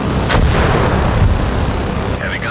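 An artillery barrage in the strategy game Crossfire Legion rumbles on without a break, heavy and dense, with booming impacts blending into a constant roar.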